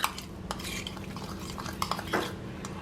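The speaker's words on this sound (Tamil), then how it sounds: "போட்டுட்டு இதையும் நல்லா பீட் பண்ணிக்கலாம்." Seasoned with salt and pepper, a mixture is beaten in a bowl, giving soft clinks of utensil against the dish and brisk scraping taps, faint and close, with no talking.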